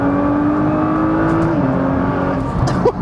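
An Audi Q7 engine hums steadily from inside the cabin as it accelerates, its pitch dropping once at a gear change partway through, with a few faint knocks near the end.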